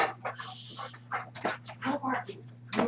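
Dogs come in from outside, with panting, whimpering and a few short yips close by, mixed with rustling and movement over a steady low hum.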